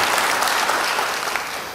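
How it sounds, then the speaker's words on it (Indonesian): Steady applause from a church congregation fills the room, a dense, even wash of clapping at close range that fades slightly toward the end, with no talk over it. "Beri tepuk tangan yang baik bagi dia."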